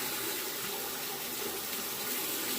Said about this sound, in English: let me go ahead and let the water out here and wet the razor